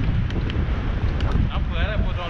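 Wind blowing hard across an outdoor microphone beside a road before a marathon, a constant low rumbling buffet with a faint voice underneath.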